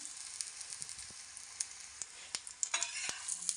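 A leftover-roti kulcha spread with gram flour sizzles steadily on a hot pan after being flipped, with soft scraping ticks and small spatula taps over the constant frying hiss.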